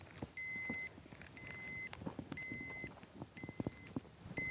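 A radiation dosimeter gives a series of short electronic beeps at a steady pace, about five in all, over quiet shuffling and handling noises, in Chornobyl, Ukraine.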